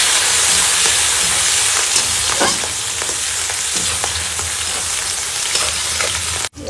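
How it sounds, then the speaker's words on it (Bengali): Green chillies and garlic fry in hot oil alongside a hilsa fish head, a steady close sizzle with crackling spits and occasional stirring scrapes, ending in a brief pause. "কাঁচা লঙ্কা, এবার ভেজে নিতে হবে।"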